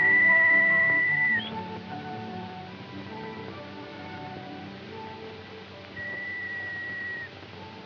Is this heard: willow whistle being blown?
yes